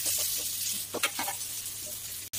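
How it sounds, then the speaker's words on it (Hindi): Oil sizzles and crackles steadily in a pan as cumin and potatoes fry, with a few scraping stirs and a brief clunk near the end. "पहले मैं जीरा डाल रही हूँ, अभी मैं डाल रही हूँ इसमें आलू"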